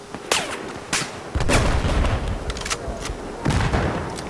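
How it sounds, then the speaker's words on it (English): Long-range machine gun firefight in a tactical shooter game: scattered sharp gunshots and bursts of fire, some booming, over a steady rumble of battle ambience, fairly loud. "That machine gun on that long range is probably the reason"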